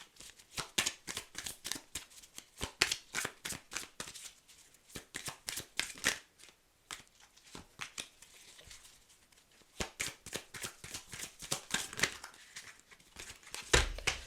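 Tarot cards handled and shuffled in a steady run of crisp riffling bursts, close and fairly quiet, with brief pauses between shuffles and no talk.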